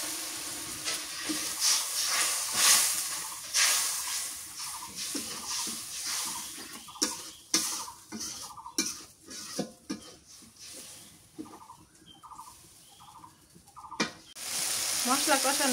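Spice paste with turmeric and salt is stir-fried with a splash of water for a chicken and potato curry, giving bursts of sizzling and hissing broken by spoon scrapes, close by, with faint bird chirps in the background.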